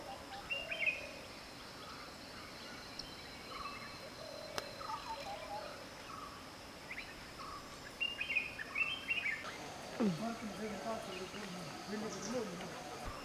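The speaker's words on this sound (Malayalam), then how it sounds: "ഒരുപാട് പക്ഷികളുടെ ശബ്ദമൊക്കെ ഇങ്ങനെ കേൾക്കാം ഇവിടെ നിൽക്കുമ്പോഴേ" Birds in a quiet Nelliampathy forest setting give scattered chirps and whistles, some near and some distant, against soft ambient background.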